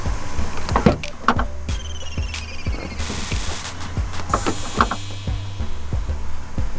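The trunk of a 2018 Dodge Challenger R/T is released and lifted, giving a series of close mechanical clicks and thumps with a brief whirring latch motor in the middle, over a steady low hum.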